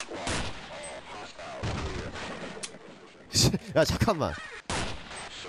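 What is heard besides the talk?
gunshots from a Half-Life mod, video game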